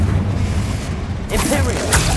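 A Confringo fire spell in Hogwarts Legacy bursts with a booming blast and whoosh amid continuous dense game combat noise, with a voice calling out over it.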